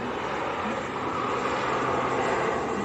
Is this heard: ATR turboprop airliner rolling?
yes